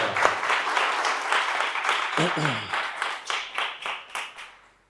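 An audience claps in a dense burst that thins into separate claps and fades out, with a voice briefly speaking over it.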